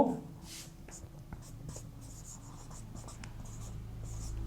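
Pen or marker writing out an equation during a physics lesson on light refraction through a parallel glass slab, a steady scratchy stroking with a few brief taps, close and quiet with no talking.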